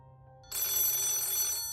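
A telephone rings loudly and suddenly after a short quiet moment, one sustained bright electronic ring that continues to the end with no speech.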